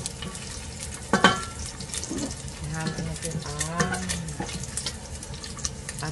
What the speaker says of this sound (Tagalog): Meron akong pinapamantika na taba.